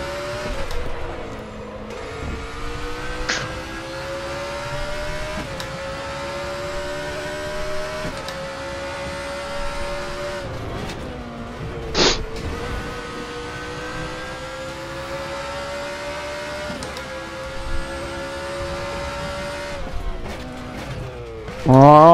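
Hillclimb race car engines in the RaceRoom Racing Experience video game, loud sustained engine drones rising through repeated gear shifts with brief sharp spikes and a final burst of revving, running steadily throughout.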